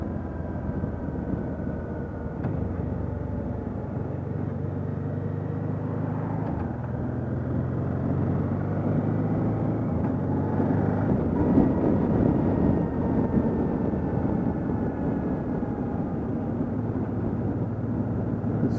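The engine of a Honda NT700V Deauville motorcycle runs steadily, a low droning putter that rises slightly midway and then settles, with no voices.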